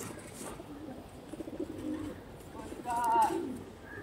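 Pigeons, including a small breeding pair kept for sale, coo softly and close by in low repeated murmurs, with a voice speaking over them.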